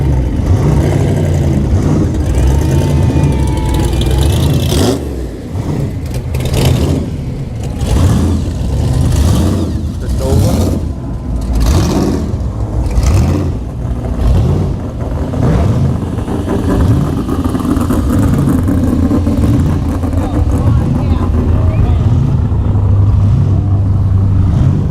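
A 1958 Edsel cruising past during a car show cruise night in Morro Bay, its engine rumbling and revving under crowd noise, steady and close for most of the stretch.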